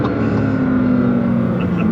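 2014 Nissan GT-R six-cylinder rated around 1380 wheel horsepower accelerating hard, a loud, sustained engine drone holding a steady, slightly rising pitch for two seconds, heard close from inside the car.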